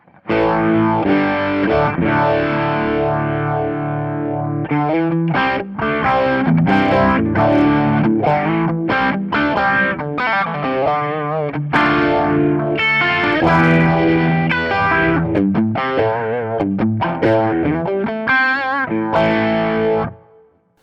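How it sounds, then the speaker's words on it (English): An electric guitar plays a continuous riff through an overdrive pedal and a phaser pedal, giving a gritty overdriven tone and a sweeping, swirling modulation, loud and unaccompanied throughout. "let's try with this overdrive pedal before the phaser"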